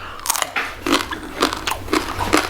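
Loud, close crunching as someone bites and chews crispy pork skin, with repeated crackling bites in a steady rhythm and no talking.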